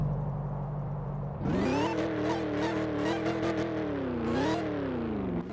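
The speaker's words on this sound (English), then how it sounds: "Supercharger, and it's a really loud supercharger as well." A loud supercharged car engine roars up at once and holds a high, steady supercharger whine with rising and falling pitch as the revs change, close by.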